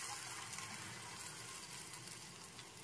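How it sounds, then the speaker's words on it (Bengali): Water pours in a steady, faint, continuous gush into a pan of fried ginger-garlic spice paste for a rohu fish kasundi curry, with no voices. "দিয়ে দেবো জল"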